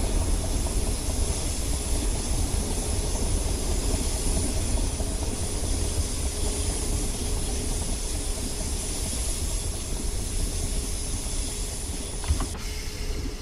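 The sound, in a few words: Network SE train rounding curve, Train Simulator 2019 video game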